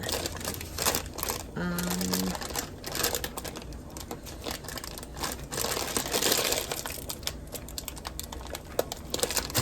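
A plastic bag of frozen noodles is handled and torn open in a home kitchen, giving steady close crinkling and rustling that runs throughout with scattered sharper crackles and no clear talk.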